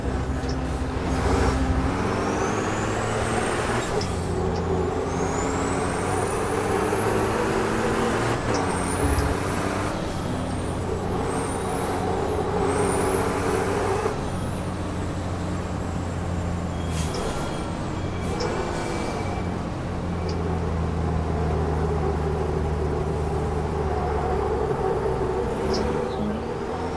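Racing truck engines in the game Formula Truck 2013 drone loudly and continuously, with rising gear-shift whines and revving surges as the trucks jostle close together.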